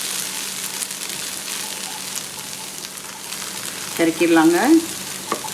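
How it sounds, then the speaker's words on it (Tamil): Sliced okra sautéing in an open pan for a South Indian stir-fry, a constant close sizzle and crackle under the food, with a short burst of talk near the end. "இனி நம்ம மூடி வைக்க வேண்டாம், இப்படியே வதக்கி விடலாங்க."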